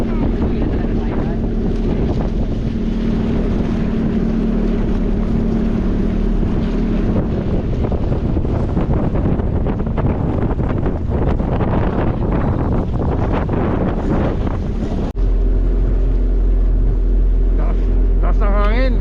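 Strong wind buffets the microphone on a motorboat at sea near Garsa Island, a loud, constant roar mixed with engine drone and splashing water, while voices talk faintly underneath.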